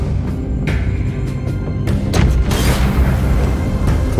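A bomb going off in The Walking Dead: The Final Season game, a loud deep booming rumble that swells and holds heavily throughout, with sharp crackling bursts on top early on.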